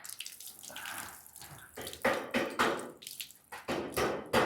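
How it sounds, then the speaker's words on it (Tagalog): Water flows and splashes off seamless roof edging in uneven surges and gushes, close and moderately loud, with no talk. "Daloy ng tubig."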